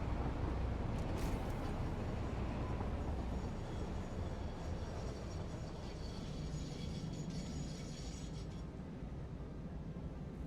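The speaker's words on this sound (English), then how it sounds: "here's our train. Our train is coming in hot." Train pulling into a station in the factory-building game Satisfactory, a steady low mechanical rumble with faint clanking, continuous and fairly quiet.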